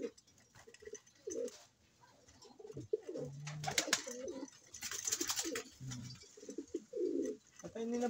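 Pigeons coo repeatedly, close by, in soft throaty bursts. Faint rustling and background chatter are heard during a gender check by a pigeon fancier.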